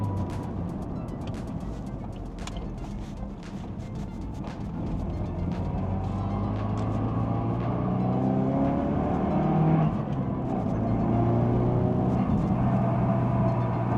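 A Ford Focus RS hot hatch engine revs steadily at half throttle, its pitch climbing in smooth sweeps with a continuous droning roar and no voices.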